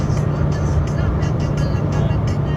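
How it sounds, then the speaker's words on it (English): Low, steady engine rumble and road noise from inside a moving car, continuous and close, with faint voice-like sounds in the cabin. "We're driving right now."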